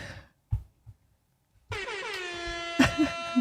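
After a few faint thumps and near silence, an air horn blasts loud and close with a bright, sustained honk, wavering slightly in strength as it carries on to the end.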